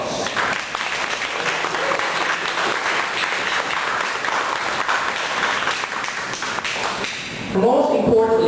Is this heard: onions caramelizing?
no